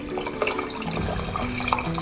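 Hot water is poured from a vessel into a pressure cooker while making masala rice bath, giving a steady, close splashing gush about two seconds long with no talking.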